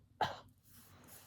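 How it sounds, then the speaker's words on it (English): A single sharp cough into a sleeve, close and fairly loud, with a brief burst followed by quiet room tone and no talking. "cough into your sleeve like this."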